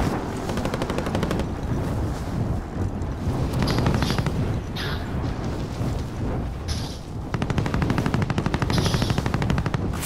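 Rapid automatic gunfire rattles in a Plunder-mode shooter video game, long dense bursts of loud machine-gun shots with brief pauses and distant booming under them.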